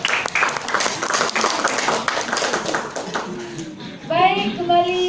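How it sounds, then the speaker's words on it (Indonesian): Audience applause at a quiz competition semifinal, dense clapping for about three seconds that fades as a voice starts speaking over the tail. "Silakan berikan tepuk tangan"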